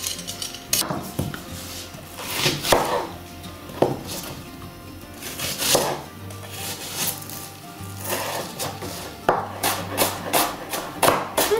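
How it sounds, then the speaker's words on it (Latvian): A knife finely chops onion on a board for a pork pilaf, giving bursts of quick, close knocks in uneven runs, with faint clinks of dishes around them. "Sīpols smalki sagriezt."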